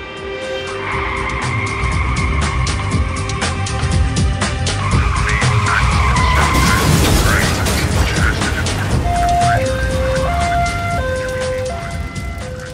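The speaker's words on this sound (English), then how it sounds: "You drink and then you drive, what you get, a car accident?" A car skids with long screeching tyres in a crash scene, loud and continuous, followed by a siren wailing in alternating tones as an emergency vehicle arrives, with voices faintly underneath.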